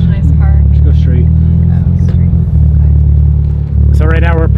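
Mitsubishi Evo X engine humming from inside the cabin while cruising, a loud, constant low drone throughout, with people talking over the engine.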